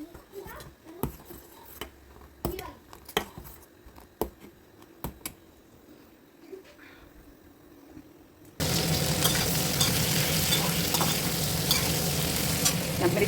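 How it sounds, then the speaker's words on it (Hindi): Okra (bhindi) frying in a pan, a steady loud sizzle that starts abruptly and runs continuously, preceded by scattered kitchen clatter and stirring knocks. "मैं इसे फ्राई करती हूँ अभी।"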